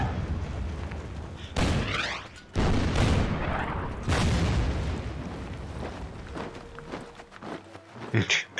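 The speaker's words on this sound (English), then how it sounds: "Oh, artillery, stop shooting me." Artillery fire from the WWII strategy game Order of Battle: several loud booming blasts with sharp onsets, each followed by a rumbling decay, spaced across the clip, with someone talking over them.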